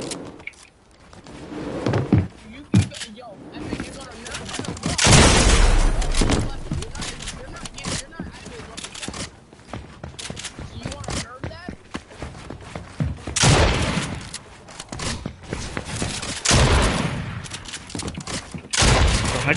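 A Striker shotgun fires repeatedly in a video game, loud booming blasts scattered irregularly through the stretch, some in quick bursts, mixed with other gunfire and clicks while players talk over it.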